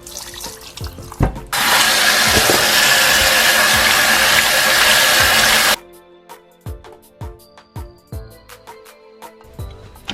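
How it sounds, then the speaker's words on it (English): Tap water runs steadily and loudly for several seconds while raw chicken is washed, with handling knocks and thumps before and after the flow stops. "we're just gonna wash this with some water and vinegar."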